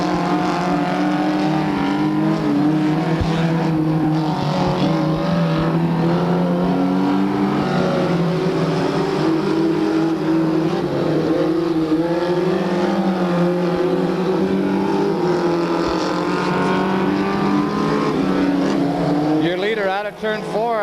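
Mini sprint and micro sprint cars race around a dirt track at a Visalia memorial event, engines roaring loud and continuous as several cars pass close, with pitch rising and falling through the turns.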